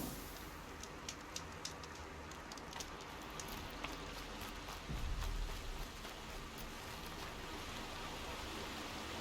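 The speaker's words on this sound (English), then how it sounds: "The rain's letting up." Steady rain falls in the video game Horizon Zero Dawn, a faint, even hiss of drops with scattered brighter patters and no voices.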